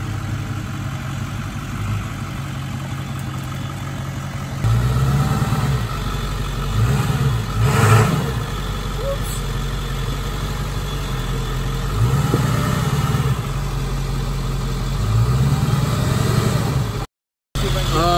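A Ford Excursion SUV's engine runs steadily while it backs into mud, with a low rumble that swells in several louder revving surges.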